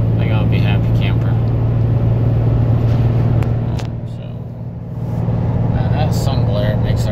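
A Ram 3500 pickup towing about 29,000 lb gross climbs a hill in fourth gear, its engine a steady, loud low drone with a brief dip partway through, while someone talks over it.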